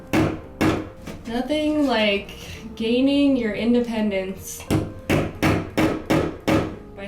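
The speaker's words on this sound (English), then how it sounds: "You just give it a hammer. A nice hammer in to get it started." A hammer taps a screw into a wall to hang curtains, giving a series of sharp, close knocks in a steady rhythm, mostly after a voice speaks over the start.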